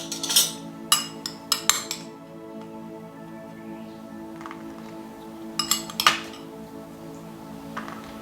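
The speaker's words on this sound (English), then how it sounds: "I'm going to spoon up some black beans into a roti." A metal spoon clinks against a pot while scooping black beans onto a roti, making sharp scattered taps in small clusters with quiet pauses and a faint background hum.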